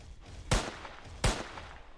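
Gunfire in the Roblox Squid Game sounds as two sharp, loud shots about three-quarters of a second apart, each with a brief echoing tail and no talk over them.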